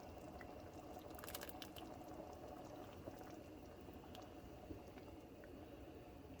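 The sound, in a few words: milk coming to a boil for Tuna Helper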